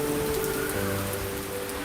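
Monsoon rain falls steadily on a surface, a dense, even patter with no pauses across the short stretch and no voices.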